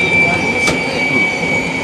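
Aboard a JR Shikoku 8600 series train slowing toward Kojima station on the Seto-Ohashi Line, a loud, steady rail rumble runs under a thin, constant whine, with a brief clatter partway through.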